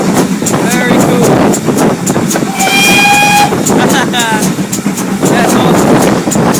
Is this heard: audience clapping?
no